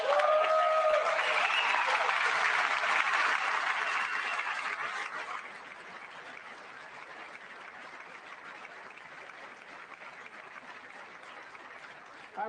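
An audience in the chamber at the 2026 State of the Union claps, loud and dense for several seconds before thinning to scattered, quieter applause.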